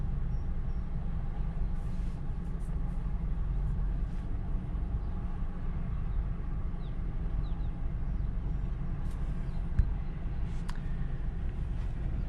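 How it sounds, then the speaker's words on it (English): A manual transmission car drives along, heard from inside as a steady, low engine and road rumble that continues at an even level, with faint higher sounds now and then. "Downshifting like a boss."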